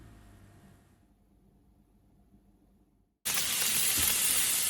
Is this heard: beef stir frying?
yes